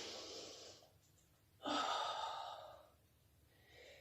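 Deep breathing during a yoga flow, heard as a soft close exhale, then a louder drawn breath lasting about a second, then a fainter breath.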